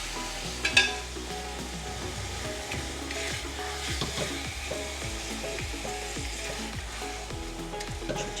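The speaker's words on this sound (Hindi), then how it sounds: "तो अब मैं इसको थोड़ा सा भुनाई करूँगी कीमे की मसाले के साथ।" Minced meat with spices sizzles in a pan for karela qeema while a spoon stirs and scrapes in repeated strokes, a steady close frying crackle broken by a sharp knock near the start.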